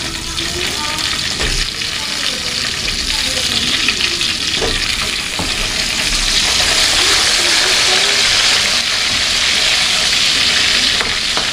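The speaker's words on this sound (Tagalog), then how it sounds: "Tapos pirituin naman natin itong ating talong." Eggplant frying in a pan, a steady, dense sizzle that stays loud throughout with occasional clinks and stirring scrapes, close by.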